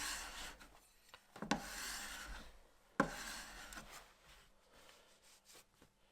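A blade is honed with fine abrasive paste, giving soft, close rubbing strokes in a slow back-and-forth rhythm, with two sharper taps marking the turns, fairly quiet throughout.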